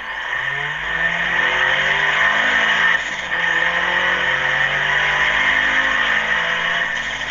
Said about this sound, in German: Das wäre jetzt was für ein Auto? Focus ST. Klingt geil, finde ich.